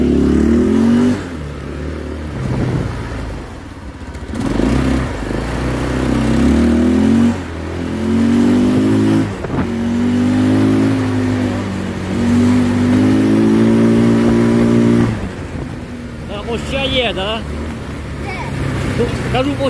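A 150cc quad bike engine revs in a series of rising and falling bursts, close and loud, with people talking over and between the revs.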